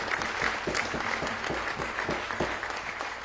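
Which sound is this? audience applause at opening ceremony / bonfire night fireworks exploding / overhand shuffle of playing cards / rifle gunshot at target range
audience applause at opening ceremony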